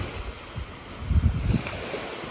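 Strong wind by the sea at a resort near Pahawang Island in Lampung, rumbling steadily across the microphone with soft surf and gusting swells, no voices.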